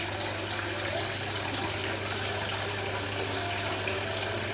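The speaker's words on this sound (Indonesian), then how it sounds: "air terjun ini terlalu banyak tikungan, terlalu banyak belokan" A pump-fed waterfall with weak pressure pours into an algae-covered koi pond under a plastic roof, giving a steady, unbroken rush and splash of flowing water.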